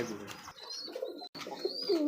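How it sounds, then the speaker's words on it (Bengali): A pair of white Bombay pigeons coos softly nearby, with low rolling calls and a brief break partway through, over light background noise. "দেখতে পাচ্ছি হোয়াইট কালার মধ্যে একজোড়া বোম্বাই কবুতর"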